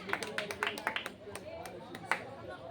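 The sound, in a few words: applause for Koyte saheb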